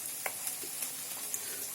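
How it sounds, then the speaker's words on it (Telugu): Masala paste frying in a pan for chole, giving a soft, steady sizzle with a few faint crackles and pops, quiet and close. "పేస్ట్ బాగా వేగిపోయిందండి"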